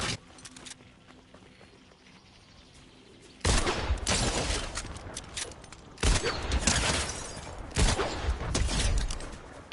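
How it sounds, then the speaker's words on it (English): Bursts of gunfire in a Fortnite match crack out loud and close, starting after a quiet stretch and repeating in dense clusters with short pauses between volleys. "Shooting."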